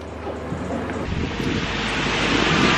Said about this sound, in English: Sorry, it started raining.